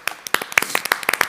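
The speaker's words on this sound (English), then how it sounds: "A big round of applause." A small audience claps after a startup pitch at an entrepreneurship pitch day, a sparse run of distinct, close handclaps in quick irregular succession with no voices.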